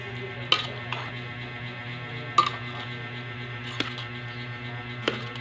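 Macaroni salad with mayonnaise being stirred in a bowl, giving soft scraping and a few sharp utensil knocks against the side over a steady low hum.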